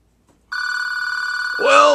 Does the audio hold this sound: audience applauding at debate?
no